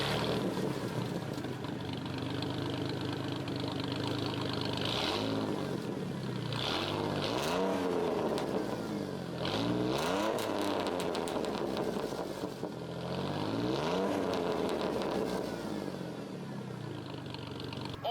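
Cummins triple-turbo diesel swapped into a work truck, running with the muffler cut off: a loud, raw exhaust roar near the microphone, with several rising revs and throttle blips over a rough idle.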